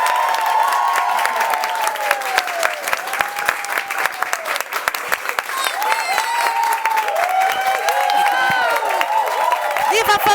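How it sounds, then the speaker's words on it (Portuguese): A large Christian religious TV program audience applauds with dense, continuous clapping, while excited voices and whistles rise over the steady sound. "a nossa salva de palmas para a glória de Deus."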